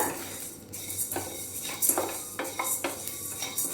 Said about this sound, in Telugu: కదుపుకుంటూనే వేయించుకోవాలండి